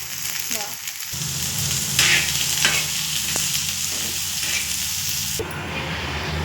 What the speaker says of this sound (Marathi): थोडं तेल टाकून द्यायचं लवकर भाजायचं लवकर भाजून घेतो